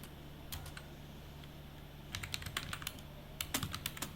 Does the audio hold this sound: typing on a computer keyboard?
yes